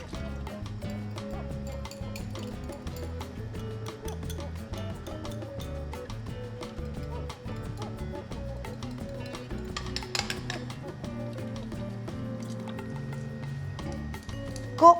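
Custard ingredients for brazo de mercedes are mixed in a saucepan, with steady light clinks and scrapes of a utensil against the pan running throughout, moderately close, alongside a faint background hum and no talking.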